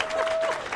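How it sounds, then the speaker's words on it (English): Audience applause at a film festival awards show, a brief burst of steady clapping from a seated crowd, moderately loud and continuous throughout. "And the clap for him"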